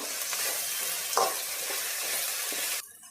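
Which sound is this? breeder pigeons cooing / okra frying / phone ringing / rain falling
okra frying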